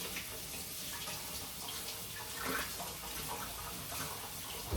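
Tap water runs steadily while fresh cilantro is washed under it, a continuous hiss and splash at moderate loudness with no talking.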